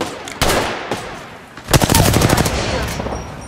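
Rapid gunfire in a shooting video game on the Mirage map: a single sharp shot, then a dense burst of automatic fire crackling loudly near the end, with no talk over it.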